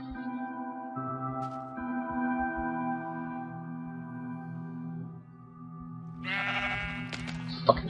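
Sheep in Minecraft bleat repeatedly in a nasal, wavering tone at moderate volume, one call running into the next, with a brief brighter burst near the end.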